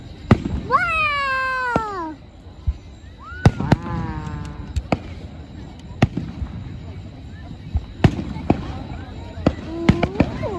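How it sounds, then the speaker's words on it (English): Fireworks at a Fourth of July celebration in Lindsey Park pop and bang in sharp separate bursts, some near and loud, others fainter, while people talk and exclaim in drawn-out wows over them. "Yeah, those fireworks."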